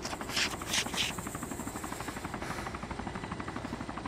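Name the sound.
helicopter in the video game ArmA II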